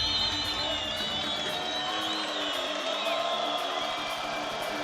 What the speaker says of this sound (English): you can hear the crowd doing all the talking for me